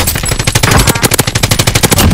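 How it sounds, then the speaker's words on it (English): Close, loud automatic gunfire in Call of Duty: Warzone sprays at the player in rapid, evenly spaced bursts of shots, with no pause across the whole moment. "they're shooting at me, they're shooting at me"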